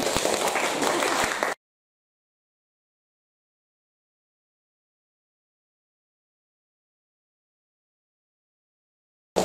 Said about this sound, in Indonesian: Ya, kasih tepuk tangan sedikit.